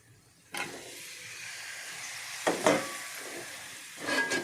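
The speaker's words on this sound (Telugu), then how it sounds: "ఇదిగోండి టమాటాలు వేసేస్తున్నాను" Tomatoes dropping into a hot pan for a nonstick-pan tomato curry, a burst of sizzling and frying that flares loudly twice more, each time settling back into a steady hiss with no voices.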